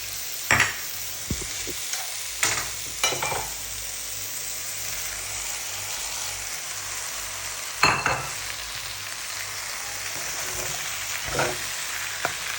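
Eggplant, garlic, onion and lemon peel sizzle steadily in a pan for coconut lentil curry, with a few sharp scrapes and stirring clatters breaking through the constant hiss.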